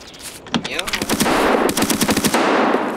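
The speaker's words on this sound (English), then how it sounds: "Are you shooting at someone?" Rapid bursts of automatic gunfire from an Escape from Tarkov match, a sharp crack followed by a stuttering string of close, loud shots that continues through most of the moment.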